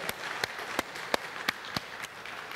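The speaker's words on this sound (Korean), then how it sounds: "하나님께 큰 영광의 박수를 한번 돌리겠습니다" A church congregation claps after a sermon prayer of thanks, a loose scatter of sharp, separate hand claps about every third of a second, fairly close and with no talk over them.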